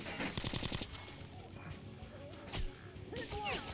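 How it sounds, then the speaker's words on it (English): Shotgun blasts in the game Metro Last Light Redux: a quick run of loud shots at the start, then a few more bangs amid game noise. "Am I shooting him with a shotgun?"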